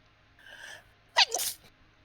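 A single sharp sneeze, preceded by a brief inhaling sound, close and fairly loud with no talking around it.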